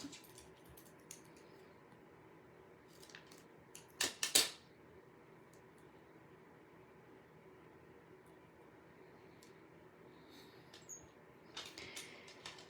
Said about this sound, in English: it's too big, so I'm going to cut it